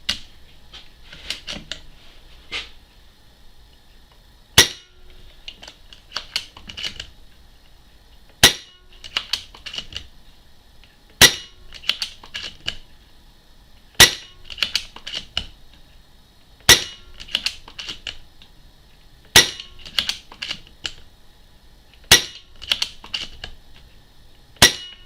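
A Falcon Prairie BM Lighthunter PCP air rifle filled to 200 bar fires eight sharp, close cracks spaced roughly every three seconds, each followed by a flurry of small metallic clicks as the action is worked, with no talking.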